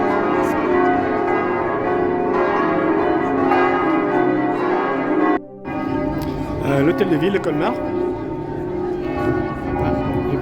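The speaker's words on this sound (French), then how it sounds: "Les cloches à la cathédrale, c'est une célébration religieuse." Cathedral church bells ring out for a religious celebration, likely a wedding, their steady tolling carrying through the open air with a brief break midway while someone speaks over them.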